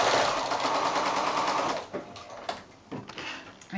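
Sewing machine stitching 5-inch quilt squares for a house block, a close steady mechanical whir that slows and breaks into short stuttering runs toward the end.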